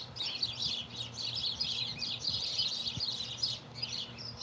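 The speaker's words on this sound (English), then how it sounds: "And my birds agree." Pet birds chirp continuously indoors, a steady stream of high twittering calls over a low background hum.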